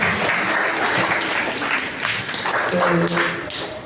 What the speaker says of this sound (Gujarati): તેમને પણ તાળીઓથી વધાવી દઈએ